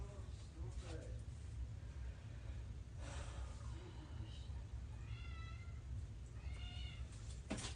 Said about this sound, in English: I have an abusive cat.